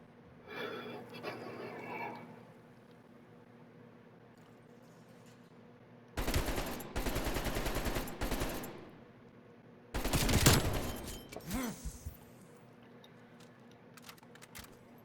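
AK rifle fire in a 1v1 video game match: two long, loud rapid-fire bursts a few seconds apart, with quieter game sounds and a voice before them.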